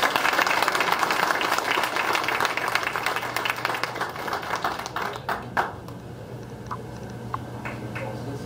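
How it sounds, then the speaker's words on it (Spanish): A small group claps at a community handover event, the applause steady at first and then thinning into a few scattered, distinct claps that trail off. "Aplauso."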